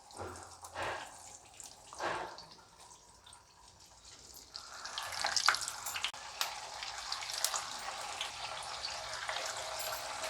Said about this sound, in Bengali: তেলটা আমার গরম হয়ে গেছে, ছেড়ে দিচ্ছি।